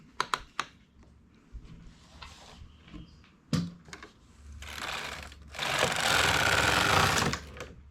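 A domestic knitting machine knits a row of wool on the ribber. Sharp clicks and knocks come first, then a loud, steady mechanical whirring rush as the carriage slides across. Nobody talks.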